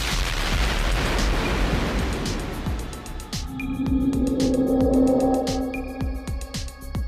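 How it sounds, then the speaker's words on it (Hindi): A loud explosion with a deep rumbling blast rings out as a passenger plane crashes after flying into a microburst near Islamabad, followed by sustained roaring and scattered crackling impacts. "और फिर हुआ एक धमाका।"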